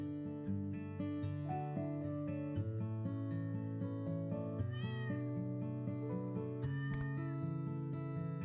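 Cartoon cat meows from the pet shop game Exotica 2: Pet Shop Simulator, several short mews rising over looping background game music at a fairly quiet level.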